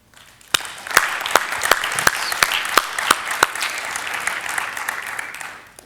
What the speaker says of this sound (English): so let us thank Alexander with a round of applause